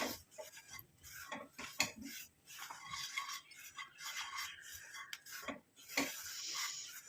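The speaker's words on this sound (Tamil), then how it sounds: "நம்ம கையெடுக்காமல் நல்லா இந்த மாதிரி கிளறி விட்டுக்கிட்டே இருக்கணும்" Kadukkai herb powder being stirred as it fries in a pan: a steady, uneven run of scraping and clinking from the utensil against the metal, with light sizzle underneath, close and moderately quiet, with no talking.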